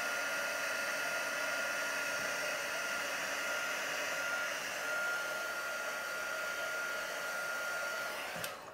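A heat tool blows steadily and close while melting embossing powder on cardstock, a continuous whirring hiss with a faint whine and a brief click at the very end, and no talk.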